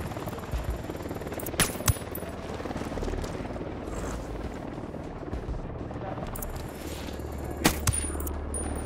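Gunfire in the Ghost Recon Wildlands shooter game, a few sharp distant shots standing out over a constant low helicopter rumble and background noise.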